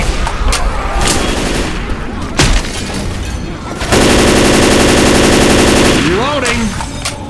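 Heavy automatic gunfire hammers at a barricade in the video game Left 4 Dead 2, loud and continuous, with scattered shots and a booming impact before a dense sustained burst in the middle; voices call out briefly over the shooting.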